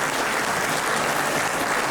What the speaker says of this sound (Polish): Zasłużone brawa, wielkie, wielkie, wielkie brawa.